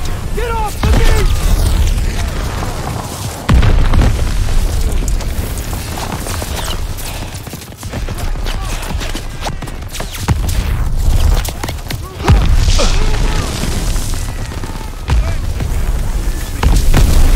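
Machine gun fire and booming explosions on the D-Day beach in the video game Call of Duty WWII, a loud continuous barrage of bursts and blasts with shouting voices mixed in.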